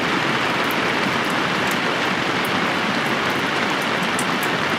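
Steady rain pours down outdoors, a dense, even hiss of falling drops that stays constant and fairly loud throughout with no voices.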